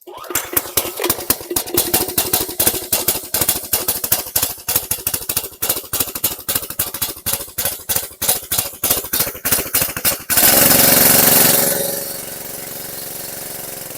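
The small gas engine of a 2004 Troy-Bilt 2700 PSI pressure washer, on full choke, sputters and chugs loudly in uneven rapid pulses, then gives way to a loud hiss of spraying water that fades to a steady rush.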